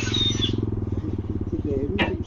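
A CCM Spitfire Scrambler motorcycle engine runs with a steady, throbbing low pulse that stays loud throughout, rising slightly toward the end as the bike rides past close by.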